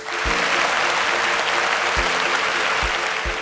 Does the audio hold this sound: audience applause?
yes